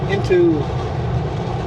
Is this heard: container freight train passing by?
yes